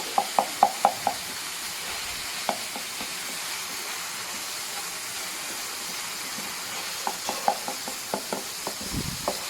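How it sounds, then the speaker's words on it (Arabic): Kofta (minced meat) with onion and pepper frying in a pan: a steady sizzle with clusters of sharp scraping stirs near the start and end, alone without talk. "المهم انا دابا كنشحر الكفته ديالي، وهانتوما كيف ما كتشوفوا ما كنخليهاش مفوره"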